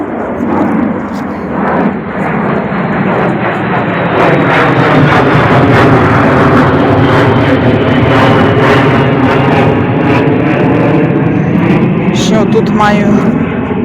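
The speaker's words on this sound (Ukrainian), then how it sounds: "Летить літак." An airplane passes overhead above a rural garden, its broad, steady engine roar loud and continuous for the whole stretch and swelling slightly midway, with a voice faintly present underneath.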